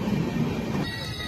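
Tirumala Express train rolling into Dwarapudi station, a close, continuous rumble of wagons with faint wheel squeal and clatter along the track.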